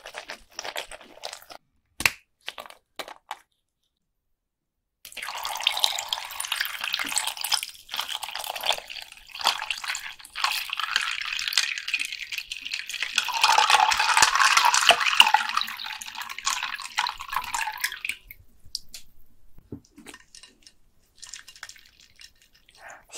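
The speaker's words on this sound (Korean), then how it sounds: "시원하게 원샷 해보도록 하겠습니다. 이거는 520ml더라고요." A bottle of Powerade sports drink, 520 ml, is gulped down in one go. After a few faint clicks and a short silence come close, steady swallowing and liquid sounds with wet mouth noises that fade out near the end.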